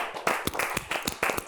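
Audience applause after a poetry reading, a burst of clapping with uneven strong hits that swells and ebbs over about a second and a half, moderately loud and without voices.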